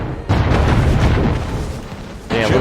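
Warship guns in Anno 1800 open fire in a loud, booming naval barrage. The heavy blasts roll together into one sustained roar, ease off, then surge again near the end.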